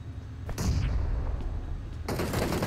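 Gunfire from a favorite gun in PUBG Mobile, a dense, loud burst of shots that starts about half a second in, eases off, then returns in a second sharp volley near the end, with no talking.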